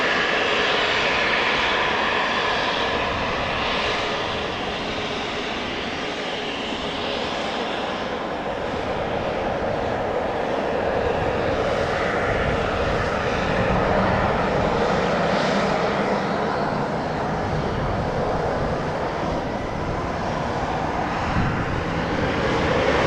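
A KLM Embraer 190 jet at Amsterdam Schiphol Airport, departing for Geneva, gives off a continuous moderate engine roar that swells and fades slightly as it moves, with no talking.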